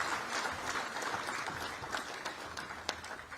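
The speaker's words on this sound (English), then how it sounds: "Can we give another round of applause?" An indoor audience at the Motilal Oswal Executive Centre inauguration at the Indian School of Business claps steadily, producing a dense, even ripple of applause throughout with no voices over it.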